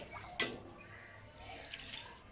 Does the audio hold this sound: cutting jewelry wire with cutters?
no